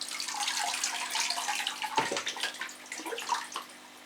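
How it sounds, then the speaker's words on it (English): Water poured and running off Phalaenopsis orchid leaves, a steady trickling patter close by with uneven gurgles and drips, no voices. "I like to let the water just run off the leaves"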